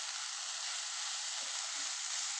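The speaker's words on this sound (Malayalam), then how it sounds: "ഇതൊക്കെ എല്ലാം ഒന്ന് ഇളക്കി കൊടുക്കാം." Taro stem thoran with coconut frying in a pan, heard as a loud, continuous sizzle with a couple of faint stirring knocks beneath it.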